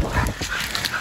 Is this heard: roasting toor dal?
no